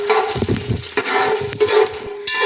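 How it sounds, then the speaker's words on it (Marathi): Coconut slices and curry leaves roast in hot oil for poha chivda, a loud close sizzle broken by repeated scraping stirs of a spoon against the pan. "लालसर होईपर्यंत खोबऱ्याचे काप भाजून घ्यायचे।"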